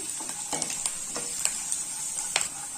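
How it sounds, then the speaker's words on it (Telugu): Onions fry in a pan for quick flattened-rice upma while being stirred, a steady close sizzle broken by several short scraping clicks of the spoon against the pan. "ఇలా బాగా కలుపుకుంటూ వేయించుకోవాలి"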